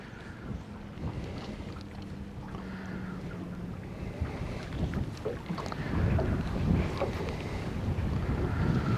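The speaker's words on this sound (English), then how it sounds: "That wind's not really helping us out today." Gusty wind buffets the microphone on a small fishing boat out on the water, a steady broadband rush that swells louder in the second half with no voices.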